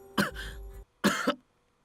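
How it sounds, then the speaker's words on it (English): A man coughs in two harsh, close bursts separated by a brief pause, each a rough throaty hack, with no other sound around them. "He was bent nearly double and coughing uncontrollably, his entire body shaking with each cough."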